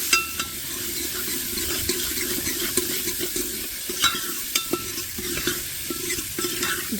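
Potatoes and vegetables frying in a pan on a stove, a steady close sizzle with repeated scraping stirs of a spoon throughout, no talking.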